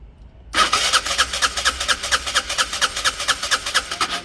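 A Peugeot Satelis scooter engine starts abruptly after a moment of quiet, then runs loud and close with a rapid, pulsing beat as it holds a rough idle.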